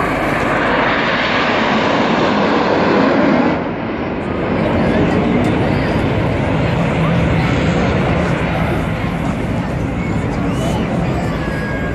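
Red Arrows BAE Hawk jets flying in formation at the Rhyl air show, a loud roaring jet rumble that swells and shifts, with a commentator talking over it.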